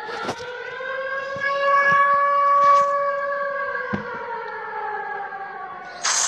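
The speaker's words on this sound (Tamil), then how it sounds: "அது வந்து டேஞ்சர் சவுண்டு" A wailing danger alarm siren in a video game, steady harmonic tones rising and falling slowly, loud and continuous across the clip with a few brief clicks of game sounds.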